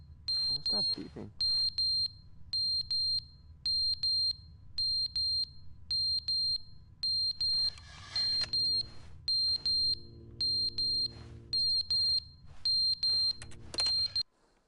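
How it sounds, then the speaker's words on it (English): Electronic alarm in the video game The Stanley Parable: Ultra Deluxe, sharp high beeps repeating in a steady rhythm of paired pulses, loud and constant, with a voice talking underneath partway through. "Stop beeping."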